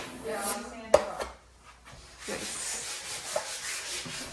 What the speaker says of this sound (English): Yeah, I'm sanding it off.